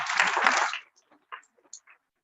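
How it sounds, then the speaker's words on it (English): A short burst of audience applause, loud at first and dying away within about a second, followed by a few faint scattered sounds in near silence. "So we'll give him a round of applause."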